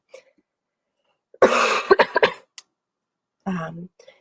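A few harsh coughs in a short burst, close and loud, followed after a pause by one more cough.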